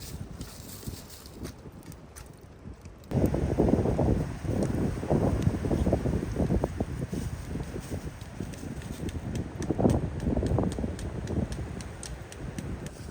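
Strong night wind buffets and rumbles close to the microphone at a wooden hut as a Swedish torch log fire is lit, gusting steadily throughout with scattered knocks and rustles.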